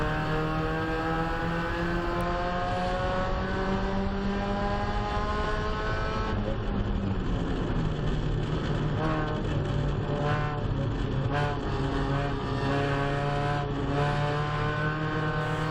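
A Spec Miata race car engine drones loudly from onboard at Rockingham Speedway, holding a steady high rev with shifting pitch as the throttle is eased and reapplied through a corner.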